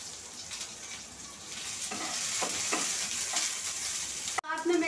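Roughly chopped onions are added to hot oil with chillies, cinnamon and bay leaf, giving a steady, even sizzle and hiss with faint stirring scrapes that ends in a brief clatter.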